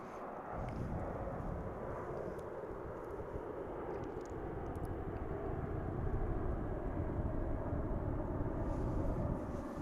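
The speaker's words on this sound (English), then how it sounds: "We've been hanging out waiting for our A380 to take off, DFW." An Airbus A380 airliner takes off at DFW airport, its engines a loud, steady low roar that holds for the whole stretch and swells slightly toward the end, with no voices over it.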